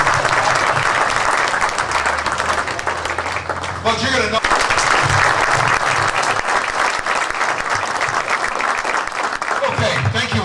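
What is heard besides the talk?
audience applause for helpers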